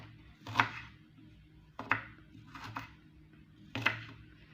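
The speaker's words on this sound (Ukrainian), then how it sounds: "Цибульку я також покришу." An onion being chopped with a knife on a board, four or five crisp separate chops spaced about a second apart, close and fairly quiet with no talking.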